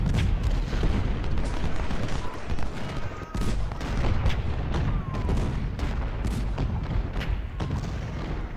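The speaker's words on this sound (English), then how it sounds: "taking fire from that artillery in the woods" Artillery and musket fire from Ultimate General: Civil War roll on continuously, dense booms and crackling volleys layered into a loud, unbroken battle din with no pauses.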